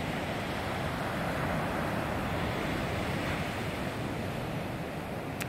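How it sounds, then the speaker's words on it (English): Surf rolls onto the beach at Haena, Kauai, Hawaii as a continuous loud broadband wash, with wind buffeting the microphone and no voices. "There's the beach that you would have a house on."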